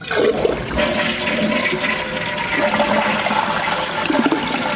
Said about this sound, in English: if you hold this handle all the way down for say 3 or 4 seconds, it's going to use all of the water in the tank